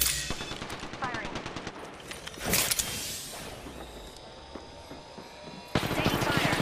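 Video-game gunfire in Apex Legends, rapid automatic bursts crackling close in, followed by a heavy single blast, a quieter stretch, then another fast burst at the end, with game voices in the mix.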